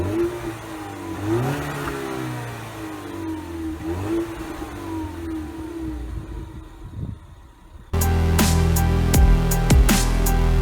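A 2017 Ford Mustang engine revs up twice from a rumbling idle, each rise and fall clearly heard nearby, then the engine drops to a quiet whir before a sudden switch to a much louder, different sound.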